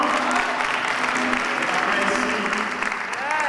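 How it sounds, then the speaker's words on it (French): A church congregation applauds together in a steady, dense wash of clapping that fills the whole stretch, with voices mixed into the noise. "on va applaudir ensemble"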